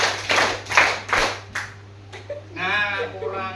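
A class claps hands in a tempo rhythm drill, a few loose bursts of group clapping in pairs before it trails off and a voice speaks.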